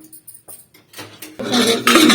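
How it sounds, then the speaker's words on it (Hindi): Metal clatter of a pressure cooker lid being fitted onto a cooker holding washed rice, with soft taps at first, then louder scraping and clanking as it locks into place, close by with no talk. "इसमें केवल अब लगा देती हूँ इसका ढक्कन"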